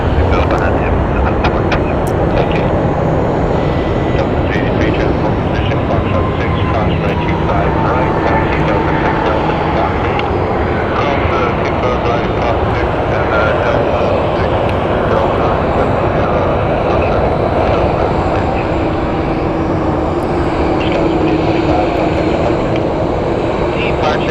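Boeing 787 Dreamliner taxiing at Phoenix Sky Harbor airport, crossing from the far side of the runway: a steady, loud jet engine rumble and whine that holds without pause.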